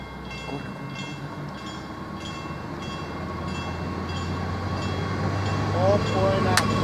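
A suburban train, a Siemens Desiro or Stadler GTW, rumbles steadily past at close range, its low drone building toward the end, with a brief horn-like tone near the finish.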